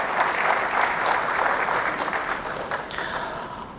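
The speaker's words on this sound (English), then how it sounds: "Would you please give a big round of applause, ladies and gentlemen, Kenneth David Kaunda." A large audience at a Pan-African Prize award ceremony in Ethiopia gives a sustained round of applause, dense clapping that stays loud and even before easing slightly toward the end.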